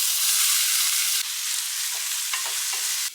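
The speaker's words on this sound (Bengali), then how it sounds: "পেঁয়াজটা একটু ফ্রাই করে নিয়ে জিঞ্জার গার্লিক পেস্ট অ্যাড করছি" Sliced onions fry in a pan with a loud, steady sizzle close by. A few scraping stirs cut in near the end.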